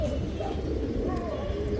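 Pigeons of a large, strong-feathered breed coo softly and repeatedly close by, with a voice talking over the birds throughout.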